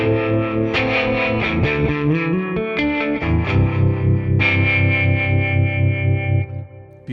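Electric guitar played through a Harm Trem harmonic tremolo effect on a Line 6 Helix modelling a '57 5E3 Deluxe amp, loud sustained distorted chords pulsing and wobbling throughout, no voices.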